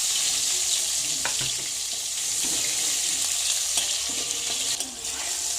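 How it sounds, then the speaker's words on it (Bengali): Ridge gourd pieces frying in leftover fish-frying oil, a steady loud sizzle throughout, with a few soft knocks and scrapes of stirring. "মাছ ভাজার তেলেই আমি ঝিঙেগুলো একটু ভেজে নিচ্ছি।"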